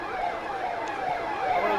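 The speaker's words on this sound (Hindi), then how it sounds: "ये देखिए जो है एम्बुलेंस का सायरन जो है वो बजता हुआ यहाँ पर पहुँच रहा है धीरे धीरे" Ambulance siren at a borewell rescue site, its rising and falling wail sounding steadily throughout as the vehicle draws closer, fairly loud with no talk over it.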